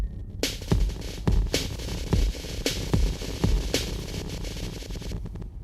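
An OP-1 drum pattern runs through a Sonicware Texture Lab granular effects processor at default settings, giving steady repeating hits with a smeared, grainy wash and a low throbbing hum between them, moderately loud throughout.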